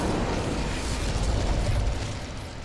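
The Incendio fire spell cast in Hogwarts Legacy on PS4 bursts out as a loud, dense whoosh of roaring flame with crackling pops, holding steady for a couple of seconds before easing slightly, with no voices.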